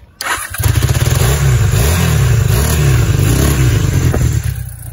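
A Honda CB motorcycle engine catches after a brief crank and settles into a loud, close, throbbing idle with a few blips of the throttle, heard alone without talk.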